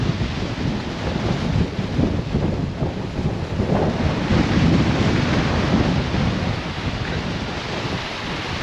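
Strong storm wind gusts across an open reservoir in the Brecon Beacons, a loud continuous roar and buffeting that fills the air throughout, with no voices.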